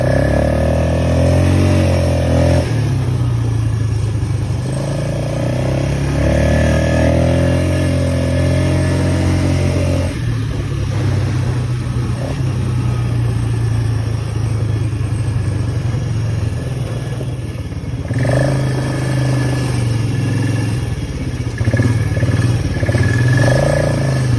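A four-wheeler ATV engine runs close by, idling with a rough rumble and then revving up in repeated bursts, loud and steady across the whole stretch with no talk.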